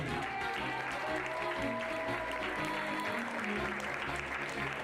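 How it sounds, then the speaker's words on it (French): Audience applause at a pony show jumping competition, a continuous wash of clapping heard from some distance, with arena ambience and a low rumble beneath. "On peut l'applaudir, s'il vous plaît, merci."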